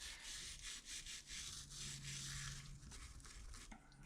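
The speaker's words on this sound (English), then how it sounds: "Now I've got a little brass brush here, and let me kind of scrub on this a little bit" Brass brush scrubs rust off a vice grip clamp in rapid, rhythmic back-and-forth strokes, close and scratchy, with a brief knock near the end.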